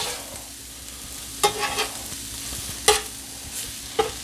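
Butter and chicken fajita filling sizzle on a flat griddle, a soft steady crackle punctuated by a few sharp scraping or tapping clicks, with no talking.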